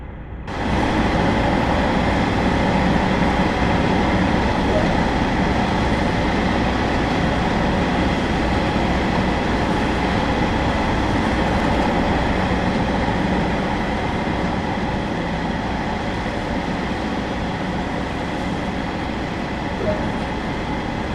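A Class 150/2 diesel multiple unit runs in Train Sim World 2 on the West Cornwall line, with a steady, loud rumble of engine and wheels that holds constant throughout.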